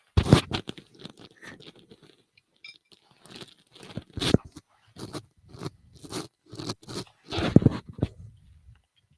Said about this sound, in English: This is really nice chewing gum.